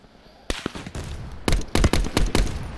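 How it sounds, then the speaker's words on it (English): Gunfire in the video game Call of Duty Black Ops 4 in Blackout duos mode, heard as a quick run of loud, sharp shots in close succession after a brief quiet start. "Shooting at me."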